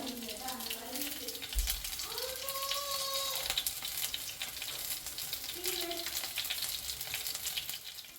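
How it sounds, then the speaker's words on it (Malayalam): Chicken frying in a pan, a steady close sizzle running throughout while a person talks over it, with occasional stirring or water sounds mixed in. "അപ്പോൾ നമ്മൾ ചിക്കൻ ഇവിടെ ഫ്രൈ ചെയ്ത് വെക്കുകയാണ്"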